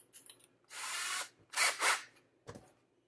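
A cordless drill bores a 3/16-inch hole in a 1/4-scale custom Morbius model kit, with several short, faint whirring bursts separated by pauses.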